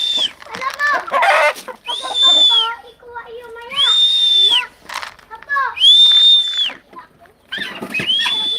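A rooster at a home on Masbate Island crows loudly and close by, about four long crows in a row, with shorter clucking calls between them.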